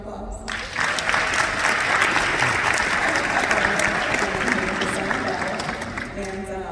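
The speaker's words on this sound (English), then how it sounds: "can you give yourself a round of applause?" A commencement ceremony audience breaks into loud, sustained applause that swells quickly and holds steady, with a voice briefly heard before and under it.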